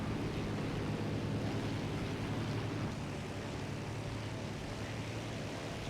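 A steady, loud drone of an SB 2M-103 bomber's piston engine in War Thunder, a constant broadband roar with no breaks, heard alone without talk.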